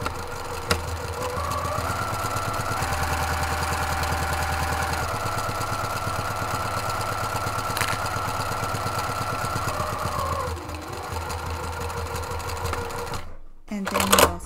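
A domestic sewing machine runs steadily while stitching a fabric seam for a desktop caddy. Its motor hum stays even and close for most of the stretch, then stops near the end.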